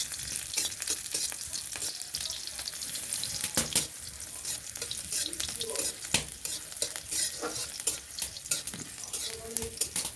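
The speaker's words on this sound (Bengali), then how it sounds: "এদিক দিয়ে এখন দেখুন কাঁচামরিচটাকে সুন্দর করে ভেজে নেব" Green chilies fry in hot oil with a constant close crackling sizzle, while a utensil scrapes and taps against the pan at irregular moments throughout.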